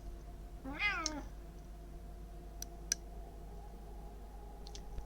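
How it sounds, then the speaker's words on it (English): A single cat meows once, fairly close and clear, followed by a few faint clicks and ticks in a quiet room. "Oddly timed cat noises."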